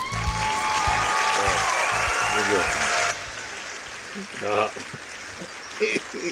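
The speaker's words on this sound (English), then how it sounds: "The longest applause break ever" Canned applause sound effect on a comedy news show, a dense burst of clapping and cheering for about three seconds that cuts off abruptly, followed by scattered voices and laughter.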